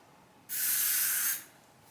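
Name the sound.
hair spray being sprayed on frizzy hair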